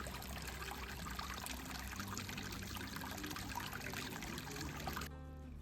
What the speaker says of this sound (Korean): 와룡묘를 지나 계속 걷다 보면 청량한 물소리가 들립니다